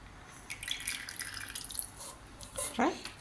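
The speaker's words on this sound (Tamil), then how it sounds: "கரைச்சி வச்ச இந்த சர்க்கரையை வடித்து விடுறேன் நான்" Dissolved sugar syrup strained through a cloth, trickling and dripping close by in a small kitchen, with a person talking over it throughout.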